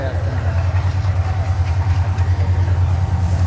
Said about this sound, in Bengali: এত ঘন ঘন ট্রেন আসে।